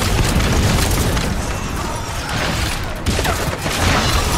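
A grenade blast in Metal Gear Solid 5: The Phantom Pain, a loud close boom that rumbles on for seconds with steady heavy noise and a few smaller pops, no talk.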